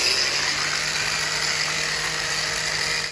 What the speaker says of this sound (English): why don't we grab the grinder and we'll just sharpen up those blades